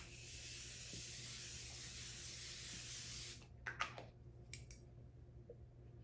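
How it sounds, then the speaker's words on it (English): Steady soft hissing of a setting spray misting onto a face lasts about three seconds, followed by a few quick rustling taps and handling noises, close and quiet. "I'm gonna go in with the Morphe Coconut Bliss setting spray or setting mist"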